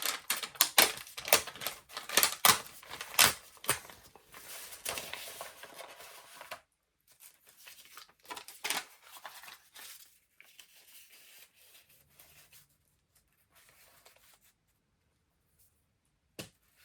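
Paper scraps for a junk journal are torn by hand in quick, close, crisp rips and crinkles. A dense burst comes first, then sparser tears that trail off into near silence.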